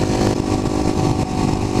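Kawasaki KLX250SF motorcycle engine running steadily close by, a loud continuous mid-pitched engine drone with slight fluctuations throughout.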